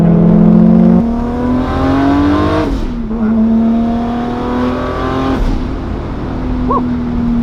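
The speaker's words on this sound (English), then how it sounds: "Peter is gonna boost for us, and we're gonna get a quick demonstration of how this car pulls" A 740 hp Toyota Supra MKIV pulls hard under turbo boost, its loud engine note climbing steadily with two brief breaks as the gears change. It sounds close and sustained, with no voices over it.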